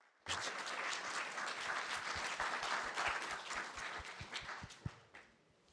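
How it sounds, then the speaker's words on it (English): A conference audience at a pensions event gives a round of applause for a panel. The dense, close clapping starts abruptly, holds steady, then thins into a few scattered claps and fades. "Give us a round of applause for our great."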